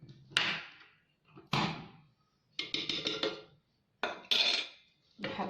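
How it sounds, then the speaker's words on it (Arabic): A spoon scrapes and knocks inside a cooking pot as freekeh soup is stirred, in several separate clattering strokes with short quiet gaps between them. "نحرك مليح البرمه تاعي"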